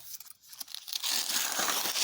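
Parchment paper is handled and placed, with close crinkling and rustling that starts in soft, scattered bursts and then swells into a sustained, bright crackle.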